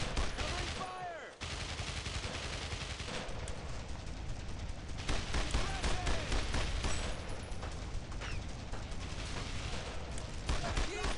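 Heavy gunfire in the WWII shooter Brothers in Arms: Road to Hill 30, with dense, continuous overlapping rifle and machine-gun bursts close by and barely a pause across the whole stretch.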